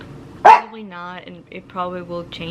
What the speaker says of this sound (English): I'm so sorry for the barking. My dogs are just really hyper this morning.